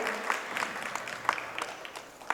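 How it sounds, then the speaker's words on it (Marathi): An audience at a dance festival award ceremony claps for honoured guests, a steady moderate round of applause from a crowd in a hall with a few louder individual claps standing out. "अर्थात टाळ्या ह्या झाल्याच पाहिजे"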